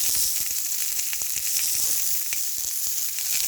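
Mushrooms and spinach sizzle steadily on a Bella electric griddle set to 400 degrees, with a dense, even frying hiss and small crackles, loud and close.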